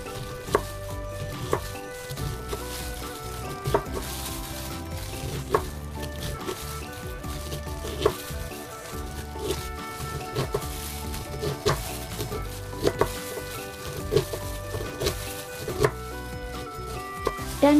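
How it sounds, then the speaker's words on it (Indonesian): A knife chops fresh corn kernels that have been sliced off the cob, in sparse, irregular thuds on a cutting board over steady background music. "saya potong-potong seperti ini."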